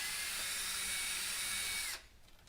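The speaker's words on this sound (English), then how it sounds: "just re-drilling the same holes now that we've applied some CA and sanded" A power drill whines steadily as it re-drills existing holes for rail buttons in a high power rocket body treated with CA glue and sanded, then spins down abruptly and stops, faint and close.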